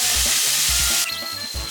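Cooking-wine oil poured over shrimp fried rice in a hot pan, a loud steady sizzle with a rhythmic low stirring or tossing thump repeating throughout, close up and with no talking.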